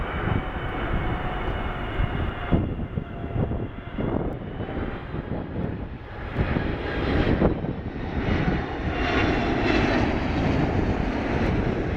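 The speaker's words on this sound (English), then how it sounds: "United Boeing 777 coming into Dulles." A United Boeing 777 coming in to land at Dulles airport gives a loud, sustained, broadband engine roar that swells and rumbles steadily throughout, with no voices.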